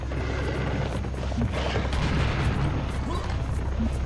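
Sustained gunfire from the shooter game Serious Sam: The Second Encounter, on the Legend of the Beast level, plays as a dense, loud barrage of shots and booms throughout, with a voice talking over it.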